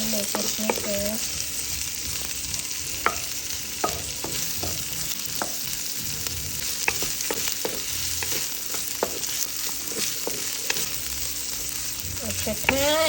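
Vegetables stir-fried in a frying pan sizzle steadily while a utensil scrapes and clatters against the pan at irregular intervals, with a brief faint voice.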